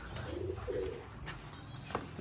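Machranga baji pigeons from Rajshahi coo softly nearby. A couple of low, throaty coos rise over steady background noise.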